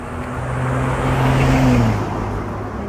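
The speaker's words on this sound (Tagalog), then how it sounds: "May kasalubong na sasakyan na ingay." A car approaches and passes close by on a tree-lined road, its engine hum swelling to a peak and then fading away, with steady outdoor background noise.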